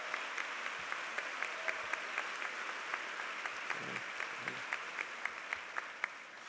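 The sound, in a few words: commencement audience applauding campus leaders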